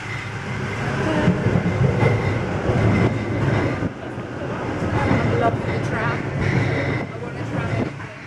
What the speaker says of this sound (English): And we're on the train.